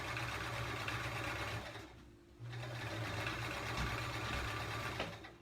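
A sewing machine runs in a steady, fast mechanical whir while free-motion quilting feathers, pausing briefly partway through before resuming its close, even stitching hum.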